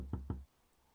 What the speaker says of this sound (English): He knocks again with more urgency.